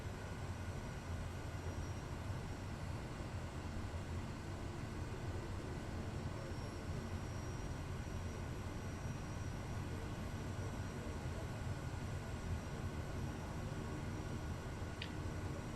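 Inside a flight simulator, a Kodiak 100 aircraft taxis with a low, steady, faint engine drone that stays unchanged throughout and carries no voices.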